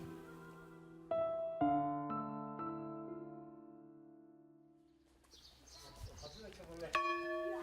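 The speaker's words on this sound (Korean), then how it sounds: "종소리가 교회를 넘어 마을로 울려 퍼지면" A church bell rings out on a Sunday morning at Guseo Church in rural Sangju, with several struck tones ringing and decaying one after another, then fading before a few more strikes sound amid outdoor noise near the end.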